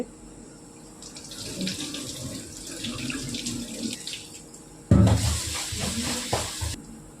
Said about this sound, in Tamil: அரிசி கழுவி போகிறாரு